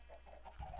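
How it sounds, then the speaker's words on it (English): Chickens cluck softly in a video game, faint and brief, with a few low, murmuring calls and no voices over them. "Now let's get all these chickens to come into this freaking chicken."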